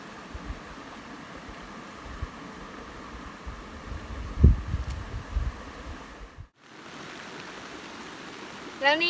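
Rain falls during an outing fishing with bamboo rods, a continuous soft wash of drops with a brief cut, heard close and moderately loud with occasional knocks and handling noises.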